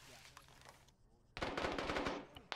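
A fast, loud burst of automatic gunfire erupts suddenly after a quiet moment, a rapid string of sharp shots in the military shooter Arma during a ShackTac session.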